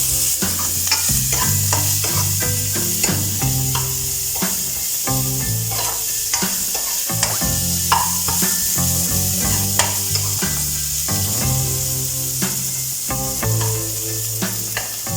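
Loud, continuous sizzling of chopped tomato and spices frying in a pan, with frequent scraping clicks of stirring throughout.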